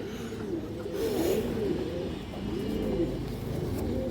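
Old-breed pigeons cooing softly and repeatedly in a loft, low rolling coos rising and falling in overlapping waves close to the listener, with no voices.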